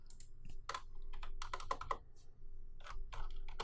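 Close, rapid typing on a computer keyboard while drafting a project in Revit, irregular bursts of crisp key clicks with short pauses against a faint steady hum.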